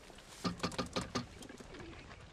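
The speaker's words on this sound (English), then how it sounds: "Most of these birds look like they can fly halfway around the block." Birds coo softly in a short run of low, rounded pulsing calls, faint and somewhat distant, with no speech.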